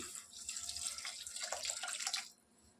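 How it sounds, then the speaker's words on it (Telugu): Water pours in a continuous splashing stream into a pot of toor dal for Hyderabadi khatti dal, close and steady for about two seconds before cutting off. "ఇప్పుడు వాటర్ యాడ్ చేసుకోవాలి."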